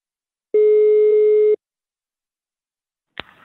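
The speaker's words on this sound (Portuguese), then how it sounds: "Vou ligar agora para Aparecida" A single one-second telephone tone sounds while a phone call is placed. It is followed by silence and then a brief click and faint noise.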